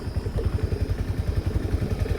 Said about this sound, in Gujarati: એન્જિન ચડી જાય જીરીકવાર ખાલી 2 મિનિટ રાખીએ